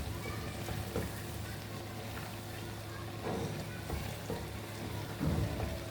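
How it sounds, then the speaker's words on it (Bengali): Crushed dried chilies, ginger and spices fry in hot oil for a mango pickle, with a faint, rain-like crackling sizzle and a few soft clatters from a utensil. "এখন দিয়ে দিব থেতো করা সেই মশলাটা আবার তেলের ভিতরে ভেজে নেব।"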